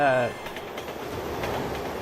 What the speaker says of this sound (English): train actually passes by through here.